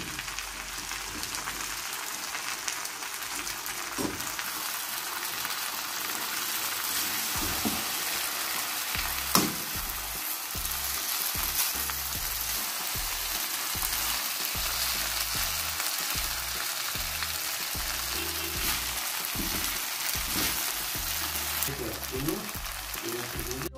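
Noodles stir-frying in a pan with vegetables, a steady broadband sizzle running throughout with repeated scraping stir strokes and clacks, close and fairly loud, no talking.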